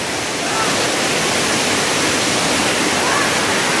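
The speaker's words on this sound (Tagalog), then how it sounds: "Ganda ng falls dito." Waterfall at Dara Falls, reached from Angeles, roaring as a steady, dense wash of broadband noise that stays loud and unbroken throughout, with no voices over it.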